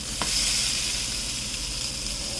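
Salmon fillets pan-seared in butter sizzle steadily in a hot pan, a close, even hiss of frying with no talking.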